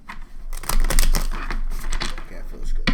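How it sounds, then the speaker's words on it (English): Tarot cards being shuffled by hand, a dense run of crisp riffling and slapping taps for about three seconds, close and fairly loud with no talk over it. "One more shuffle."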